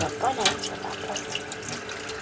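Water runs steadily from a Delimano electric self-heating tap in a home kitchen, a continuous close splashing hiss with a voice speaking over it.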